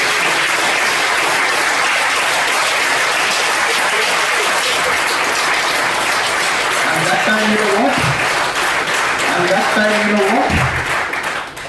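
Audience applause fills a school of management panel discussion hall, a dense, steady wash of clapping that stays loud throughout, with a voice briefly speaking over it near the end.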